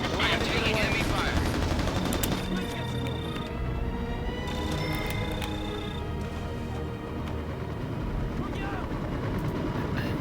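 Enemy gunfire in Mercenaries: Playground of Destruction, bursts of rapid shots over a steady roar of engines and rotor noise, dense and loud, with tonal game effects and a voice briefly heard.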